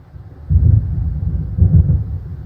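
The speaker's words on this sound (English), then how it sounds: "It seems there's a storm coming." Deep rolling thunder from an approaching storm in Alan Wake, two heavy low rumbles swelling in about a second apart over a constant dull background roar, fairly loud with no talking.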